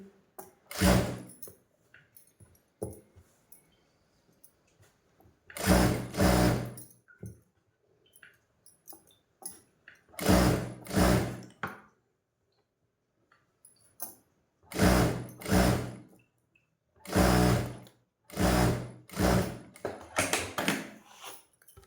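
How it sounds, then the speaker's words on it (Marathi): Domestic sewing machine stitching the lining of a blouse, running in short repeated bursts of a few seconds each with quiet pauses between, fairly close and steady, no talking. "अशा पद्धतीनं अस्तरला दापटीप देऊन घ्यायचे आहे"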